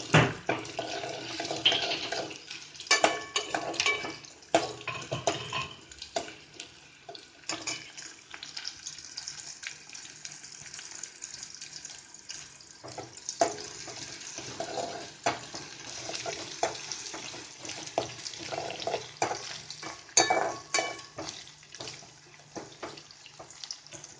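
Curry leaves and thinly sliced onion frying in a pan for puffed rice chivda, a steady crackling sizzle with intermittent stirring and scraping clatter, fairly close and moderate in level, no voices.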